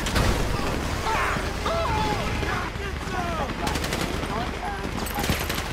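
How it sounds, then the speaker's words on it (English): Bursts of rapid gunfire crackle through a busy, noisy scene in the video game GTA V during a heist mission, with shouting voices and whistling tones layered over the shooting. "You hear that gunfire?"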